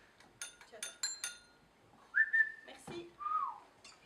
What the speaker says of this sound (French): Le facteur, il ne parle pas. Il siffle